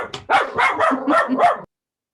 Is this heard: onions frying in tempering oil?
no